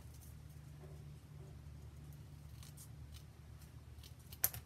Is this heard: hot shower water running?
no